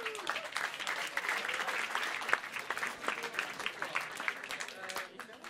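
Applause at a live Dutch election debate event, a dense, even rattle of many hands clapping steadily for several seconds, moderately distant, with a few voices mixed in.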